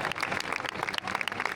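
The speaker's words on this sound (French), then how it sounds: "On peut applaudir les suicidaires s'il vous plaît." Scattered clapping from an audience at a triathlon athletes' briefing, a dense patter of hand claps at moderate distance, steady for a moment with no speech over it.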